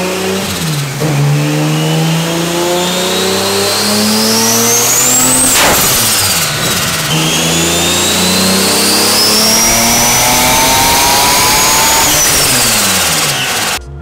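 A Mitsubishi Lancer V6 turbo 6G75 engine revs hard on a dyno, roaring loud and close with rising and falling pitch sweeps around 5000 rpm, continuous with no voices.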